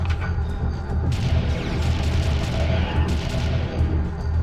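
Dense, continuous video game gunfire fired from the fire button, a steady loud crackling barrage of overlapping shots and impacts with no pauses, no voices heard.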